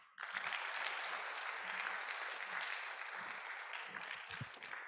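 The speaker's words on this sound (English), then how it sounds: "give a round of applause to all our awardees once more" Audience applause for awardees at an institute foundation day ceremony, a steady wash of clapping that starts abruptly and holds strong for several seconds.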